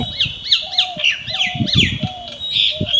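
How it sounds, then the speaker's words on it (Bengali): Common myna birds call close by in a burst of repeated whistling, squawking notes, several calls overlapping in quick rhythmic succession over a faint background murmur. "দেখেন শালিক পাখি এখানে আছে আমাকে দেখে"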